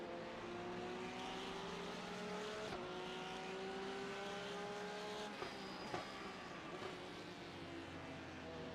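GT3 race cars on the Spa-Francorchamps circuit in the iRacing sim: steady engine drone with rising and falling tones as cars pass and shift, at a moderate level throughout with no talk.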